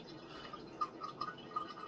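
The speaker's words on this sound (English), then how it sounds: "You can hear a little drippage from the cheesecloth" Kombucha tea strained through cheesecloth, letting soft, faint drips fall at an uneven pace, several small plinks over a low background hiss, with no talking.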